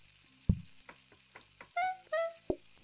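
Stir fry sizzling in the cooking game Plate Up!, with a few short crackles and thumps followed by two brief tonal game chimes and a final knock, quiet and without voices.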